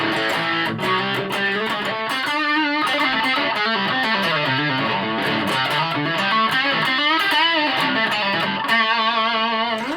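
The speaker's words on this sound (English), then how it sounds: "Kind of sounds like other distortion pedals, but a good one." An electric guitar plays through a JHS 3 Series distortion pedal, its crunchy, saturated tone running through bending melodic lines and sustained chords, loud and upfront with no talking.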